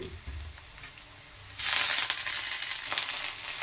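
Coriander leaves dropped into a pan of half-fried onion, garlic and chilli, quiet at first then bursting into a loud, close hiss of sizzling that continues with light stirring, no voices.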